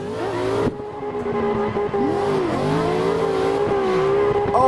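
A drift car in a racing video game running tandem battles, its engine droning and revving with wavering pitch as the tires slide, loud and continuous with a brief cut in sound early on.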